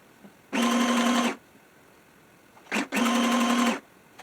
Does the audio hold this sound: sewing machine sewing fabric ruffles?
yes